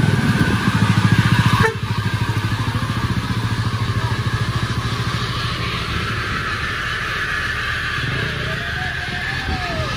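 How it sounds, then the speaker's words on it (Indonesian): Bus engine labouring up the steep Sitinjau Lauik climb, a loud, close, rough drone with a sharp change after the first couple of seconds before settling into a steady strained grind. "Bus sedikit mengalami kesulitan menanjak"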